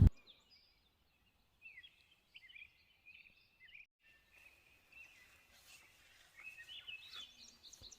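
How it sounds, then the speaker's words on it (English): Birds singing at an abandoned hot springs in Montana, faint scattered chirps and short twittering phrases from some distance in an otherwise quiet outdoor setting. "And those are all the birds really in the background."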